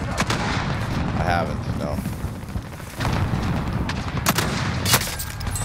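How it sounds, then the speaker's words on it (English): Gunshots and explosions ring out in the Call of Duty Modern Warfare video game, scattered sharp cracks and booms under ongoing casual conversation between players. "We're taking fire."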